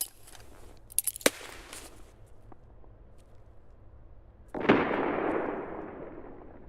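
A grenade explodes in Escape from Tarkov: a few faint clicks and taps lead to a single sharp, fairly close blast that trails off into a fading rumble.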